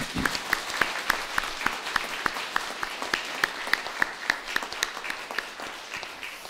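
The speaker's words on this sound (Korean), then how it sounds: "우리 격려하는 마음에서 박수로 환송하겠습니다." A church congregation at a Sunday service applauds in a steady, even patter of many hands, moderately loud and sustained throughout with no talking over it.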